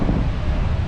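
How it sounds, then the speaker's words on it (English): Wind buffets the microphone on Garrapata Beach, a brief, steady low roar with no voices. "it's windy"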